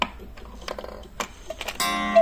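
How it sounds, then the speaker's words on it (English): A mechanical cuckoo clock strikes eight o'clock, its close ticking and whirring movement leading into a bright, sustained chime tone near the end, with no talking. "you will hear the cuckoo sound coming out at 8 o'clock."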